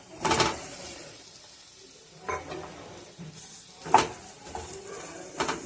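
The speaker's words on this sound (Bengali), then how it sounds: "এবার আমি ভাজা আলু কটা দিয়ে দেবো" Fried potatoes are added to a spice paste and sautéed in a pan, with a few sharp clanks and scrapes of the spoon over a quiet background sizzle, close by and without speech.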